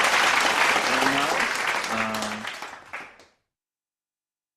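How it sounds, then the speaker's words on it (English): Audience applause for young performers at a morning devotion gathering, steady and full for about three seconds, with a voice speaking over it, then tapering off abruptly into silence. "let's give them a round of applause"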